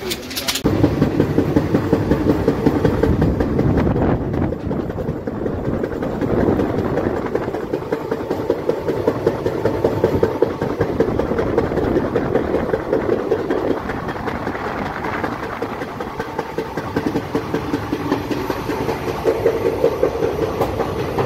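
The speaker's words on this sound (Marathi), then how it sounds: "मित्रांनो, आपली ट्रेन आली आता रतलाम जंक्शनला आहे." An express train on a Delhi to Pune run pulls into Ratlam Junction, with a steady loud rumble and rhythmic clatter of wheels over rail joints heard from on board, no voices.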